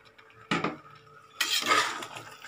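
Thalappakatti-style chicken biryani masala with mint and coriander being tossed in a metal pot: two bursts of clattering, scraping cookware, the second longer and louder, close by with no talking.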